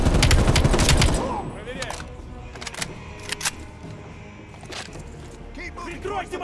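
An AK-74 in Call of Duty Black Ops Cold War fires a fast burst at the start, followed by scattered single shots and distant gunfire, with someone talking over it.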